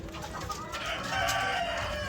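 A rooster crows loudly nearby while laying hens cluck in the background, a short farmyard burst without speech.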